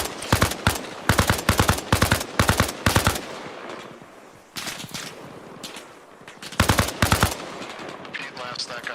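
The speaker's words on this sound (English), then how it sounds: "They're shooting us from the town." Gunfire from a town during a battle at Ali Abad in the video game Arma Reforger: sharp, loud bursts of rapid automatic shots in quick clusters, with short quieter gaps between volleys.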